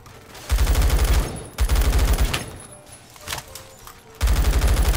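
A G36 rifle in Roblox Phantom Forces fires in loud, rapid automatic bursts, three or four strings of close shots separated by short pauses.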